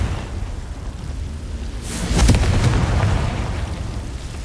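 Confringo, a fire-blast spell in Hogwarts Legacy, goes off as one loud burst that swells into a sustained rushing roar over low rumble, with no talking.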